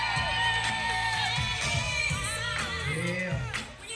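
A birthday party crowd whoops, yells and cheers loudly and continuously, close by, with overlapping voices screaming together.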